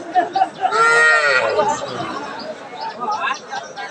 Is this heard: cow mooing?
yes